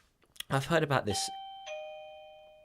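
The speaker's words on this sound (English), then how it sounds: "Oh, that's the doorbell." A two-tone doorbell chime rings out clearly right after a brief spoken phrase, its first note sustaining, then a second higher ding that rings on and slowly fades.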